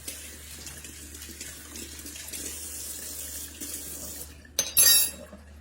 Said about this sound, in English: Give my hands a rinse.